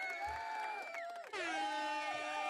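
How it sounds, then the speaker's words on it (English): A canned applause and cheering effect fired from a button during a live call-in photography show, a short burst of crowd whoops and cheers that cuts out briefly and resumes, fairly loud and alone without talk. "Where's my applause button?"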